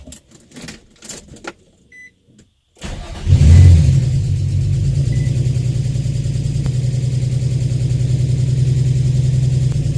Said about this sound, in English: You should be able to hear the ticking noise coming from the engine.